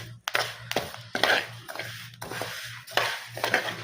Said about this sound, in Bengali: এই যে চাল ভাজতে আছি